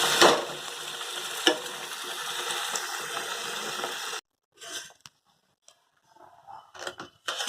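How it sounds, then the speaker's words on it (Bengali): Broken wheat (dalia) is stirred into fried spice masala, giving a loud, steady sizzle with scraping strokes for about four seconds. It then cuts out to near-silence broken by scattered faint clicks and rustles. "মশলা কষানো হয়ে গেছে, ডালিয়াটা দিয়ে দেওয়া হলো।"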